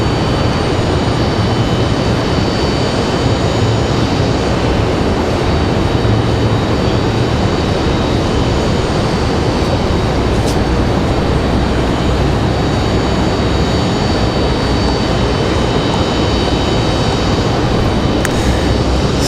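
Jet airliner engines roar at Raleigh Durham International Airport, a loud continuous broadband rumble that holds steady throughout with no voices over it.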